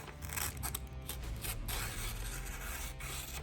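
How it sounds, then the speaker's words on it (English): A DeWalt push and flip pocket knife slices through a piece of paper, giving a steady dry scraping and tearing rasp with a few sharper rustles, close and continuous for several seconds with no speech. "Let's cut that piece of paper."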